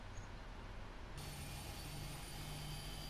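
A Boeing 777-300ER's number 2 engine spools up in a flight simulator, a steady broadband jet roar that rises partway through as a low whine and bright high tones join in, continuous with no talk.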